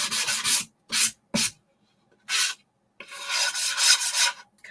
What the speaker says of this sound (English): kind of sand down some of the rough spots. I hate that sound.